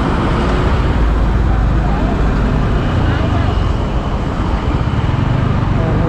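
Road traffic roars around a motorbike riding near Lonavala, a dense, loud, steady rumble of engines and wind close by, with a person talking over it.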